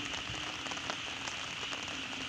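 Steady rain pattering on a surface beside rice fields, a continuous dense hiss with scattered droplet ticks, close and fairly loud, no voices.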